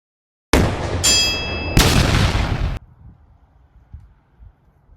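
A CZ457 .22 rifle fires at a 200-yard range on a cold, slightly windy day: two sharp, loud close reports with a ringing tail, then quiet outdoor ambience.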